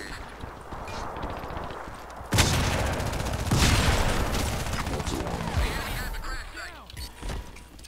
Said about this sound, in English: This guy's got a heavy machine gun too.